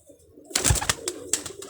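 A pigeon at a rooftop loft coos and then bursts into flight, a loud close flurry of wing flaps in two bursts over a quiet background.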